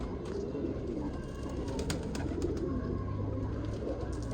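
Pigeons coo softly on a rooftop, low murmuring calls running steadily under a dense hum of background noise.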